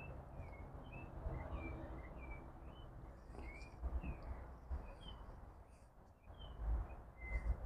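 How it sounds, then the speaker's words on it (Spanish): A bird sings at 4 am in spring beside a potted terrace garden in the city, repeating short bright whistled phrases at a steady pace. The song is faint and distant over a low background hum. "Yo espero que se esté escuchando el pájaro que está cantando"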